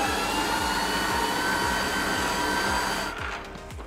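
An electric hand mixer beats egg whites together with yolks at medium speed for a gluten-free chocolate cake. It gives a steady, loud, close whir that runs throughout with a faint rhythmic thump, then drops slightly near the end.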